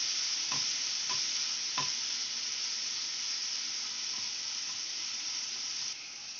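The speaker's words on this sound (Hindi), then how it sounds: "अच्छे से हम इसको फ्राई कर लेते हैं" Okra (bhindi) fries in a pan over medium-high flame, giving a continuous even sizzle and hiss close up, with a few light spatula taps early on and no voices.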